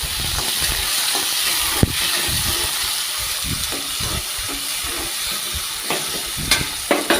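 Onions and tomato sizzle and fry in a pan for a beetroot fry made at home, with a steady hiss and occasional sharp pops and spatters, close and fairly loud, without talk.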